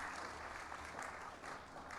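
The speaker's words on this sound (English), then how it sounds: "You can give John a round of applause" Audience applause at a university pitch competition, a faint, steady wash of clapping heard from a distance.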